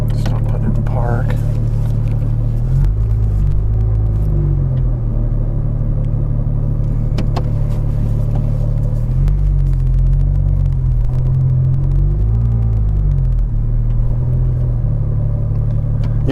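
A Porsche GT3 RS engine rumbles steadily at low revs while the car idles and eases along, loud and close with a constant deep drone and occasional slight swells in pitch.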